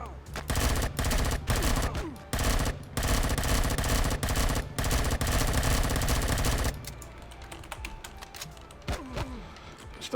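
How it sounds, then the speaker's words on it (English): Rapid, loud automatic gunfire in the video game Empyrion Galactic Survival, sustained bursts with brief gaps for about seven seconds, then sparser scattered shots and impacts. "Stop shooting me."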